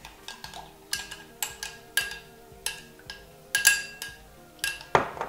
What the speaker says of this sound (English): Just a little bit of cornstarch. Mix it in there.